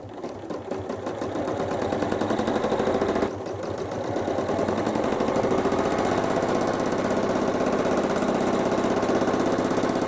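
A quilting machine stitches a design along a ruler with a rapid, steady mechanical chatter, pausing briefly midway before resuming its fast needle rhythm.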